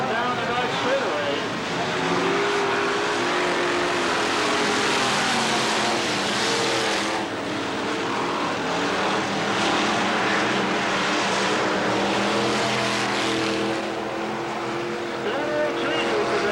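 A race car rumbles down the back straightaway of a short track speedway. The engine roar is steady and somewhat distant, with a broad noisy wash and a slight fade midway.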